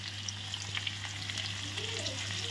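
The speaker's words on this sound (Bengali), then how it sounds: "লবণ হলুদ দিয়ে আলুটাকে ভেজে উঠিয়ে নেব।" Potatoes fry in a wok with salt and turmeric, giving a soft, steady sizzle with faint stirring scrapes, brief and fairly quiet.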